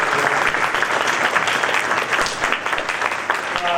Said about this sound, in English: let's please give them a round of applause